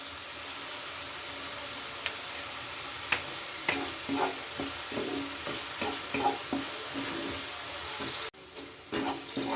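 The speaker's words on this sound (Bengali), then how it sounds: "আদা রসুন পেঁয়াজটা একটু কষিয়ে নিচ্ছি" Ginger, garlic and onion being sautéed in a pan, with a steady sizzle of frying and repeated scraping, stirring strokes close by.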